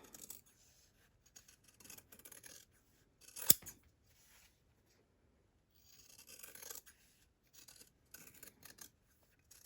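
Scissors cut through fabric pieces for making fabric eggs and carrots, producing quiet, close snips and rasping slices in short bursts separated by pauses.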